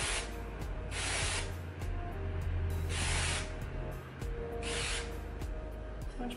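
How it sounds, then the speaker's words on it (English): Root cover-up hair spray misting onto a hairline, several short hissing aerosol bursts repeated close up, each a few seconds apart, over a steady background hum. "So you're gonna take your gray away spray and you're just gonna shake it first."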